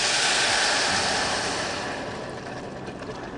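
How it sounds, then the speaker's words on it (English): Vegetable broth pours into a hot pan of garlic and spices, a loud broad sizzling hiss that starts strong and gradually softens as the liquid settles, with no talking. "Now that I can smell the garlic, I'm going to add the vegetable broth."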